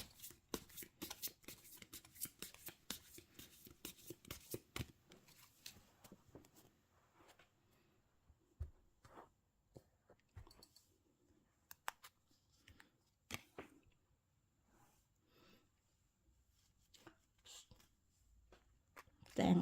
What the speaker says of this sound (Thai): ขอเป็นตัวแทนสับไพ่ตัดไพ่ให้คนเกิดวันอังคารค่ะ